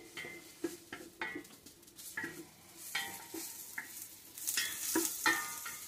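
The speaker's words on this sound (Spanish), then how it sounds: "Lo tengo ahorita a fuego alto para que se sofría la cebolla muy bien." Chopped onion and garlic sautéing in a pan over high heat as the base for a coconut-milk fish soup, with a steady sizzle broken by repeated scrapes and stirs of a utensil against the pan, close and alone without talk.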